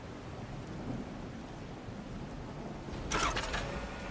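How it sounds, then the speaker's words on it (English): Thunderstorm ambience in a video game: a steady low rumble of rain and wind that swells into a loud crack of thunder near the end, with no voices. "Can this storm fuck off, please?"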